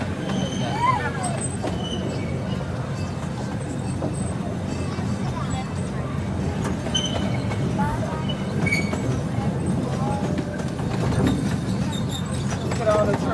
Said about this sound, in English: as we pull into the station, please stay seated if you're going to be staying on board the train